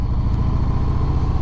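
A 2019 Harley-Davidson Sport Glide 107 under way, its engine a steady low, throbbing rumble with wind roar, loud and close, constant with no breaks.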